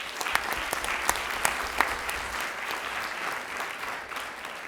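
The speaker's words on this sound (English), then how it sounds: "Please hold your applause." Audience applause at a school board of education meeting honoring student musicians, a steady wash of clapping from a crowded room with a few sharper claps standing out, sustained throughout without speech.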